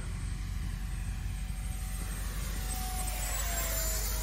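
An E-Flite Viper 64mm electric ducted-fan RC sport jet flies overhead under partial throttle, a steady whooshing whine with a faint pitch sweeping through it as power comes on, heard from a distance over continuous wind rumble.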